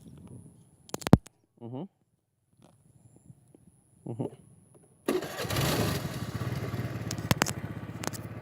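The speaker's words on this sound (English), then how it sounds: "press the ignition switch, which is here, and accelerate at the same time to start the engine" Several short clicks and brief starter whirs, then a small scooter engine catches at about five seconds and keeps running with a buzzy, rattling idle.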